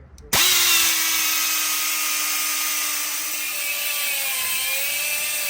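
A power tool starts abruptly and cuts through heavily loaded U-bolts on a Nissan D21 Hardbody truck, holding a loud, steady high-pitched whine that wavers slightly in pitch as it bites into the metal.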